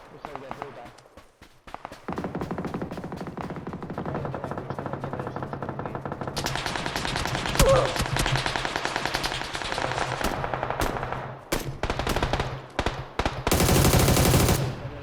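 In PUBG, rapid bursts of automatic gunfire rattle in sharp, repeated volleys, some near and loud, some more distant, while players talk over the shooting.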